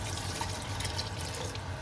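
Water is poured into a cooking pot of chicken and potatoes, a steady close pouring and splashing that runs without a break for about two seconds.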